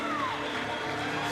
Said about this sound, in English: standing in applause, standing on their feet here